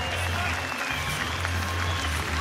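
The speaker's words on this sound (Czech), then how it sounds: "Ale potlesk taky pro Libora Kalouse!" Applause from a crowd at an amateur MMA event in an octagon, greeting a fighter after a bout decided on points; steady clapping throughout with a low hum underneath.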